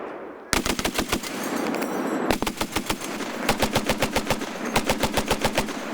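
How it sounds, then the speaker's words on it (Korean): A K6 heavy machine gun fires at night during a winter combat live-fire drill, loud rapid bursts of sharp shots broken by short pauses, each burst a quick rattling string of reports. "사격 명령이 내려지자 K6 기관총이 어둠 속 적을 향해 화염을 내뿜습니다."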